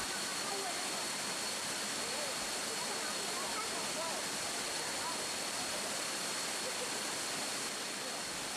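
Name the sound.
Tat Kuang Si waterfall, Luang Prabang, Laos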